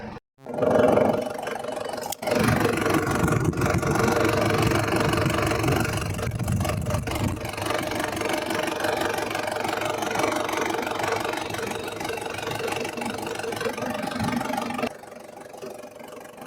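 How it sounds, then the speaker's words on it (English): The 3-liter diesel engine of a 1998 Toyota Hilux Surf idles with a steady, rough low rumble for about fifteen seconds, close by, then cuts off into silence. "it's a 3-liter diesel engine guys"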